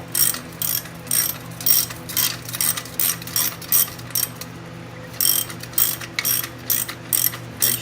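A hand ratchet clicks in repeated quick bursts with short pauses while loosening the exhaust support bolts on a 2017 Harley-Davidson Dyna, close and crisp over a faint steady hum.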